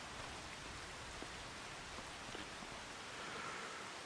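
Steady rain falls in a farming video game, a dense, even hiss of drizzle that continues without a break and stays fairly quiet, with no talk.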